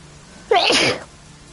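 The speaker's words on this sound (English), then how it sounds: "Sneezing definitely isn't as terrible as it used to be" One sharp, loud sneeze from a person, close and isolated, bursting out suddenly and fading within half a second against quiet surroundings.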